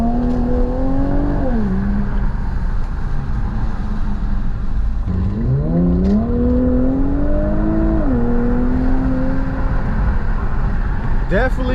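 An Infiniti Q50 Red Sport 400 fitted with a Motordyne catback exhaust and AMS lower downpipes revs loudly and up close, with several rising and falling engine sweeps, while a person talks over it.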